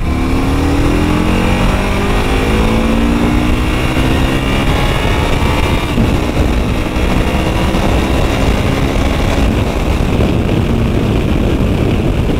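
An Aprilia Caponord motorcycle roars loud and close as it accelerates while being ridden, its engine note climbing in rising sweeps through the gears over steady wind rush, with no speech.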